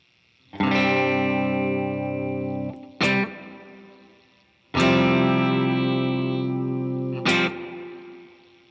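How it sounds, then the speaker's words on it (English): Two long sustained electric guitar chords through a basic plate reverb, each ringing out with a short, smooth reverb tail before a brief pick noise and the next strum. "here's an example of how a basic plate reverb would sound"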